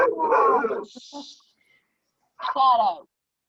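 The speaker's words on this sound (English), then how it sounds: "the dog loves to run to the back door and start barking" A dog whines and yelps in short, close bursts, with a pause between them and quiet surroundings.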